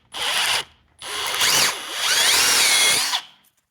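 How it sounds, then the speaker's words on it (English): Power drill boring a hole in three loud bursts, a short run, a pause, then a longer run with the motor pitch rising and falling, close and alone. "I'm going to drill a hole."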